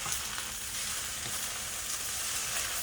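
Scrambled egg sizzles steadily in hot oil while being tossed through pork fried rice, a continuous close frying hiss with soft stirring scrapes and no talking.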